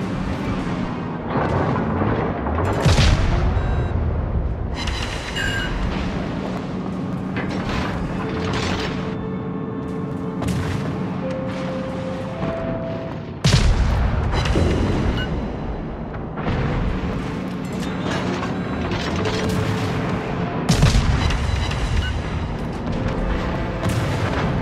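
Deep naval artillery salvos in World of Warships, repeated loud booms spread through a continuous rumbling battle soundscape, with occasional brief voice lines.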